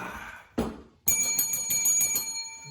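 A bicycle-style bell sound effect, one short ding followed by a rapid bright metallic ringing trill that continues to the end, loud and close with no voices.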